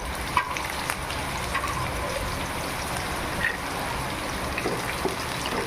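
Chopped onion and garlic fry in a pan for khichuri, a continuous close sizzle with occasional small crackles and stirring ticks, steady in loudness and free of speech.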